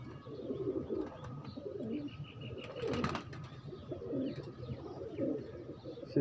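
Teddy breeder pigeons in Lahore coo softly and repeatedly close by, low rolling coos recurring every second or so, with faint chirps and a brief rustle midway.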